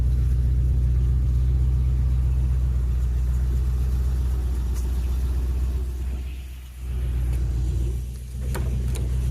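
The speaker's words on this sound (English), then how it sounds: "It's got a really nice example of a Range Rover Classic here." A Range Rover Classic with a tuned Performance 4.6 V8 idles close by with a deep, steady rumble. Twice it briefly dips and recovers, with a few light clicks over the drone.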